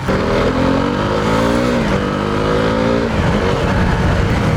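KTM Duke 390 single-cylinder motorcycle engine revving hard under acceleration, its rising harmonic whine climbing steadily, dipping briefly at a gear change, then pulling again; loud, close and continuous with no talk.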